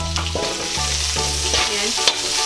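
Crushed ginger sizzles and fries in hot oil in a pan while being stirred, a steady close crackle broken by scraping stirs, cooking for the Davao dish bulcachong.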